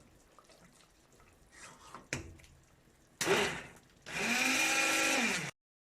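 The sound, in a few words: hand blender pureeing carrot soup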